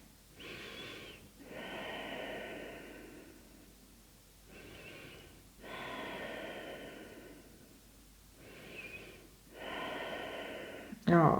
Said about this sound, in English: take deep breaths, the knees press together